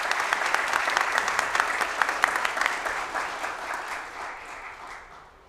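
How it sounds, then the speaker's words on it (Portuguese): A round of applause at a solemn Masonic DeMolay tribute session, dense clapping from a seated crowd that holds steady and then gradually tapers off. "Salva de palmas ao Salgueiro."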